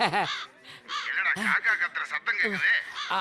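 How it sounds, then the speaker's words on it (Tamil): Harsh, repeated crow caws come in short bursts, mixed closely with people talking throughout. "ஒரே ஒரு காக்காயை வாங்கி சாம்பிளுக்கு ஏர்போர்ட்ல கட்டி போட்டு வச்சிருக்காங்க"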